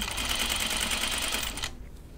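A sewing machine stitching light fabric, a fast even rattling hum running steadily for about a second and a half before stopping, leaving a quiet room.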